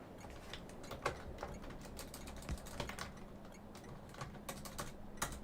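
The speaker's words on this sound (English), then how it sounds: "Typing is hard." Quick, uneven keystrokes on a computer keyboard clatter close to the microphone, a run of sharp clicks with brief pauses and no talking.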